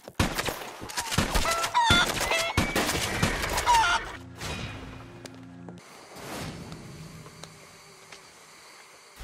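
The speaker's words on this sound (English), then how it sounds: "Next we have 5 chickens, skin it." Chickens cluck and squawk in the Red Dead Online video game, busy and close for the first few seconds, then fading into quieter ambient game sounds with scattered gunfire-like cracks.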